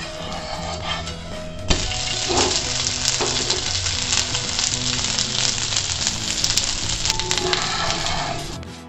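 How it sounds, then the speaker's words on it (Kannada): A moong dal and sabudana dosa roasts on a hot pan with a continuous loud sizzle and crackle, a sharp spatula scrape or tap partway in, then steady frying to the end. "ನಮಗೆ ಕ್ರಿಸ್ಪಿಯಾಗಿ ಬೇಕು ಅಂತ ಎರಡೂ ಕಡೆನೂ ಸುಟ್ಟಿದ್ದೀನಿ"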